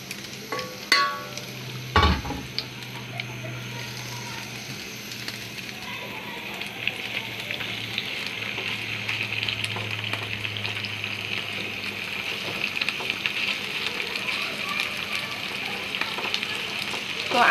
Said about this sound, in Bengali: এখন আমি এখানে চিংড়ি মাছগুলো দিয়ে ভেজে নেব।